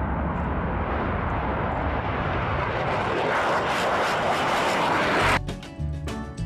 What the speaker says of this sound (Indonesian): Wadidaw, ada pesawat tempur teman-teman.